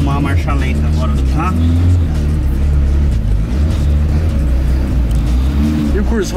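A turbocharged Ford 1.6 engine idles with a low, steady rumble throughout, while a person talks over it.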